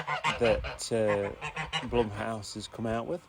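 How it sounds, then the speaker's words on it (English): Geese honk repeatedly in the background, loud and nasal, while a person talks over them. "If you can hear that in the background, that's the geese, making their voices heard."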